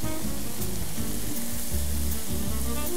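Tomatoes sizzle and crackle in a pan as spices go in, a loud continuous fry with a low rumbling bubble underneath and occasional stirring scrapes.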